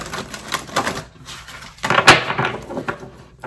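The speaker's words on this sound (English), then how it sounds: "let me shuffle the cards" Rapid clicking and riffling of cards being shuffled, in two bursts separated by a short pause, close and fairly loud.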